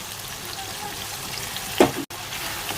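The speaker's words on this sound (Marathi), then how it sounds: "त्याच्यात टाकूया हिरवी मिरची, कोथिंबीर, आलं लसूण आणि जिऱ्याची पेस्ट." Green chili, coriander and ginger-garlic-cumin paste go into hot oil in a pan for a mixed vegetable dish, giving a steady low sizzle with one brief louder burst as the ingredients drop in, followed by a quick cut.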